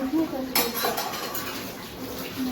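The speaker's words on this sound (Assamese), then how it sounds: "দুটামান বাচন আছে, ধুই লওঁ।" A few dishes are washed at home, with close clinks and scrapes of pots and cutlery under faint running water while a voice talks intermittently.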